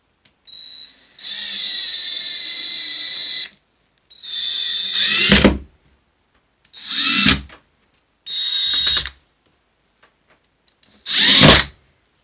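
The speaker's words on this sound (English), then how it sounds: "we'll just take our screws and screw right into that canvas to hold our piece in place" A power drill drives screws into a canvas frame for a scrap-wood floating frame, in five separate bursts: long high whines, each ending in a louder rising grind as the screw seats, separated by silence.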